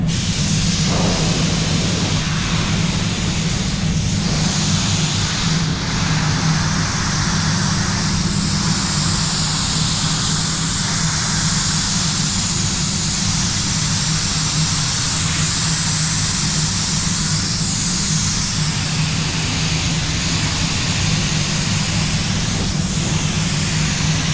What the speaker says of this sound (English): So you see, with the lower pressure, less overspray, moving slower, say, than the first coat.